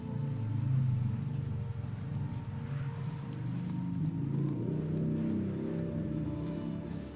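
A motorcycle is ridden in the video game Days Gone, giving a steady low engine drone with light background noise throughout, at moderate loudness and without revving peaks.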